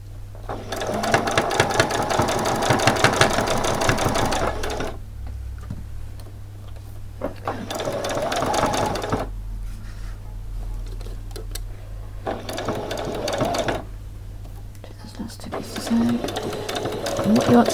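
A sewing machine stitches a frilled top in bursts, running fast then pausing, the needle clattering rhythmically near and loud, with a steady low hum throughout and someone talking between the runs.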